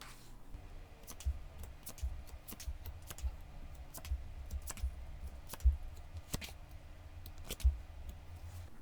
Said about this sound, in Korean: 잠시 심호흡 하시는 동안 제가 카드 뽑아 볼게요.